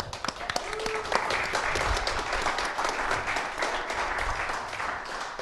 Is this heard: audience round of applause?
yes